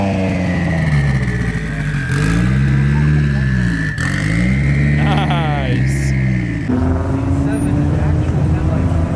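A wide body Corvette C6 with C7 front end revs hard while leaving a Houston coffee and cars show, loud close engine sweeps rising and falling several times with a deep exhaust rumble.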